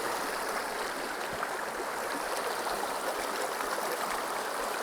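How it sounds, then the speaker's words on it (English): A small brook in New Hampshire flows steadily, its close, constant watery rush and trickle carrying on without a break. "This brook is incredible little stream."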